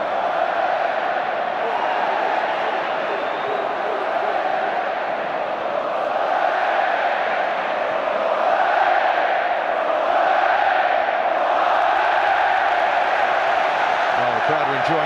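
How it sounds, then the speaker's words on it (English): Large football stadium crowd at a Spain vs England international friendly in Spain, a steady loud roar of cheering and chanting sustained throughout, with a commentator's voice over it. "the crowd are enjoying it now from Spain"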